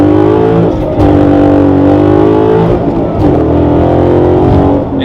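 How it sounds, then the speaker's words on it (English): An 800hp Corvette pulls hard in first gear with a loud, close engine roar that climbs steadily in pitch, continuous and dominant, with only brief dips as it revs. "Here comes the first gear pulling a Mustang."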